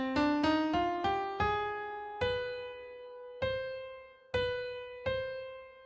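A piano plays the ascending steps of a harmonic minor scale with the raised seventh, B natural. The notes are clear and separate, the first few quick, then slower, each left ringing and decaying.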